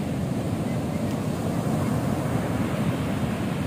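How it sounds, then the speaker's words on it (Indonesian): Rough surf pounding a beach at Cemara Cipatujah, Tasikmalaya, with strong wind buffeting the microphone, forming a dense continuous roar with no distinct breaks. "itu ombaknya lagi ngamuk, lagi ada angin besar"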